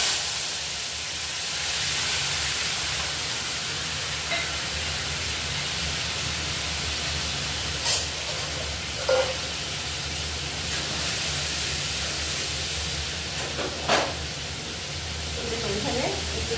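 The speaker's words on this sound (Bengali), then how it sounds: "আমি কালো জিরেটা ফোড়ন দিয়ে দিচ্ছি তেলের মধ্যে।" Black cumin seeds sizzle in hot oil while tempering for a mustard hilsa curry, a loud, steady hiss running the whole time with a few sharp pops and crackles.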